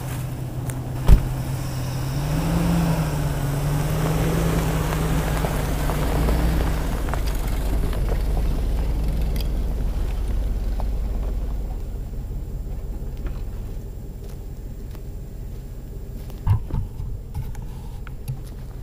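A Chevrolet Tahoe rolls slowly over a foam pad laid on gravel, giving a steady low engine rumble and tire crunch that fades out, with a couple of sharp knocks near the end.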